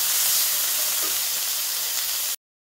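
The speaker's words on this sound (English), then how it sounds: "Quickly fry all the ham." Ham sizzles and spits in a hot frying pan for a couple of seconds, a steady, close, fairly loud frying hiss with no talking, ending abruptly.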